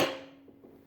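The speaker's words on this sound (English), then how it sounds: "it's a hand sledgehammer. It's 3-pounder." A 3-pound hand sledgehammer strikes a 6-inch steel vise once, close and loud, with a sharp metallic ring that decays over under a second.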